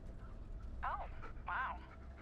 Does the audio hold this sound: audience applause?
no